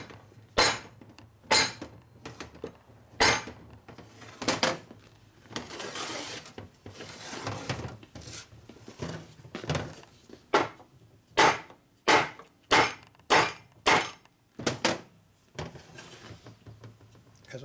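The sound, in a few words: hammering on a 1961 Harley Sportster generator to pop it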